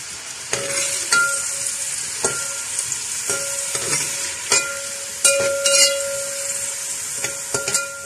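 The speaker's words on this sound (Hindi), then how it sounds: "ऑयल गर्म हो चुका है, इसमें हमने जो प्याज ली थी ये सारी प्याज डाल देंगे।" Chopped onions for vegetable pulao hit hot oil in a pan and sizzle with a steady hiss, broken by several sharp scraping clinks of a spoon against the metal pot.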